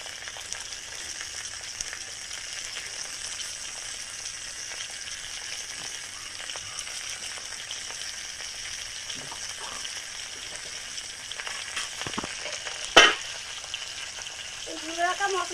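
Khaira fish being laid into a pan of browned taro, with a steady close sizzle of frying oil throughout and a few soft clinks and stirring sounds near the end.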